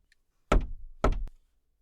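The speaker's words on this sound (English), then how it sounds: "Then I heard a soft tapping," Two close, soft knocks sound at a screen door on an old cabin's porch, a pair of dull thuds half a second apart, then silence.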